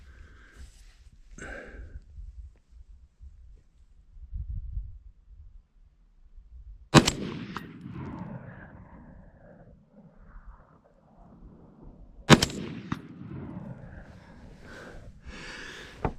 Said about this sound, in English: We're still shooting the Winchester stuff.